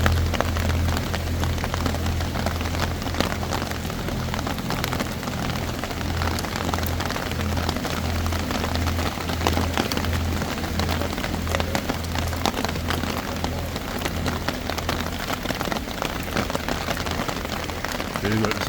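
Steady rain falls on the grounds of a fall festival in Duluth, a dense, constant patter close by with a low rumble underneath, and people talk over it.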